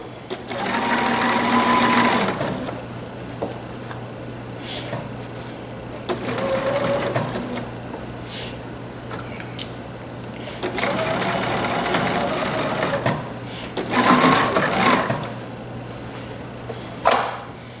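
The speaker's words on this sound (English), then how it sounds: "I'm sewing on a Bernina 740" A Bernina 740 sewing machine stitches in several loud, steady bursts of a few seconds each, separated by short pauses, with a quieter motor hum underneath.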